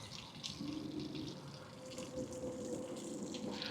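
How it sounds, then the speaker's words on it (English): An offroad frame cleaner sprays soap and water under a vehicle, giving a steady, soft hiss and gushing flow of water throughout, fairly quiet with no talking. "we should have soap and water come out at the same time"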